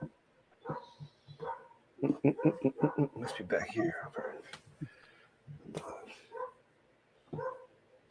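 A stuffed toy dog gives a run of loud electronic barks, close and clipped, while people talk quietly around it.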